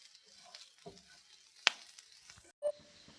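A squid filling stirred as it fries in a pan gives a quiet, steady sizzle, broken by a few light scraping clicks of the stirring spoon.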